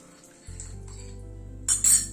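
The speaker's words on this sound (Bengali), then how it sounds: "গ্যাসের ফ্লেমটাকে মিডিয়ামে রেখে দুধটা কিন্তু সমানে নাড়ছি, যাতে কোনো লাম্পস ফর্ম না করে" A spoon clinks against a pot while stirring milk on a stove over a medium flame for kulfi, with light metallic taps and scraping over a low steady hum.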